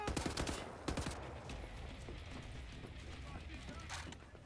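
Rapid bursts of gunfire in Wolfenstein The New Order, a dense rattling volley at the start and scattered shots after, fairly faint over a busy battle din.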